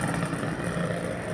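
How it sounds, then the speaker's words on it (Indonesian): Motorcycles pass along a road near a bridge, a steady close engine drone humming without pause through the short stretch. "Tuh masih banyak motoran motor yang lewat."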